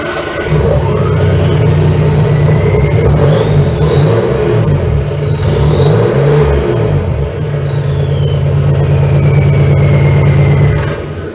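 A lifted Roxor utility truck engine fires up and revs repeatedly, its loud close exhaust note rising and falling in pitch over a steady low rumble before settling back to idle.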